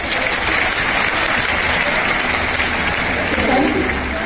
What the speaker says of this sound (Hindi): सर के लिए जोरदार ताली होगी।